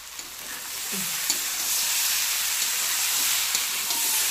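Vegetable curry of potato, okra and beans sizzles steadily in a pan as paneer goes in, a continuous broad frying hiss with faint stirring scrapes, no voices.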